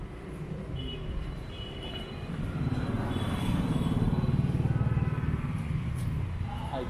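Busy central road in Mysore, India, with a mix of motorcycles and cars passing, a continuous mid-distance traffic drone that swells louder midway, heard from the street.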